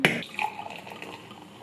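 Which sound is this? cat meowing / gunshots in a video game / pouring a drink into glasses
pouring a drink into glasses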